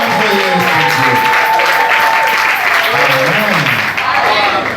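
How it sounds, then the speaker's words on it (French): Loud applause fills a Sunday church service as the congregation claps and raises joyful shouts and cries over the steady clapping, voices rising and falling throughout. "Est-ce qu'on peut ajouter le cri de joie?"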